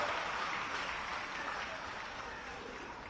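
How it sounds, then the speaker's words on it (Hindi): A large crowd at a public event in Indore claps to welcome a local legislator, a broad, even wash of many hands that continues without pause and eases off slightly. "ताली बजा के आज आकाश का स्वागत।"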